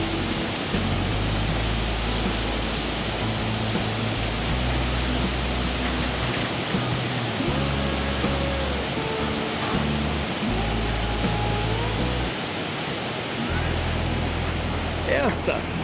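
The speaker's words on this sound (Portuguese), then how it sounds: "Bonita cascata, né pessoal?" A waterfall by a bridge in Piraju, Brazil, roars as a steady, loud broadband rush throughout, with low rumbling underneath.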